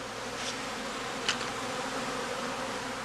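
Honeybees of a colony in a straw skep give off a continuous close buzzing hum, with a couple of brief louder passes from individual bees flying near.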